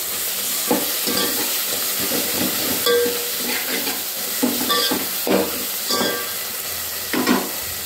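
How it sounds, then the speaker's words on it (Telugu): A spatula stirs chilli powder into egg biryani masala in a pan, with steady sizzling and frying beneath a series of scraping, clattering stirs spaced a second or so apart. No one speaks. "ఇప్పుడు కారం, మీ స్పైసీకి తగ్గట్టు మీరు కారం వేసేసుకోండి. ఇప్పుడు ఒకసారి కలిపేసుకుందాం."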